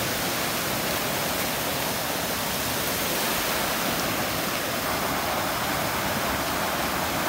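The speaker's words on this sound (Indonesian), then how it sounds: "Nah, ini pinggir sungai." River flowing at the edge of the bank near Bedegung waterfall, a loud, unbroken rushing wash of water that stays steady throughout with no talking.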